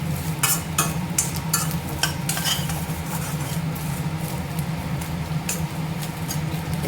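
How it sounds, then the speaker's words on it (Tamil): Grated coconut sautés in a pan over a low flame, with a soft steady sizzle and repeated scraping, clinking strokes of a spoon, heard close up. "தேங்காய் பூவை நல்லா வதக்கிக்கலாம்"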